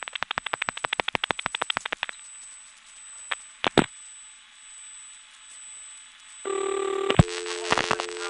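Multifrequency signaling tones on a GTE/Leich CXP-5 crosspoint telephone switch, 1977: a rapid train of short pulsed tones, a hissy line with a steady high whine, a few clicks, then a louder sustained multi-tone chord near the end.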